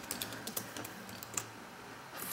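Quick, light keystrokes on a computer keyboard, a short burst of clicks entering a fastboot command in a quiet room, close and fairly soft.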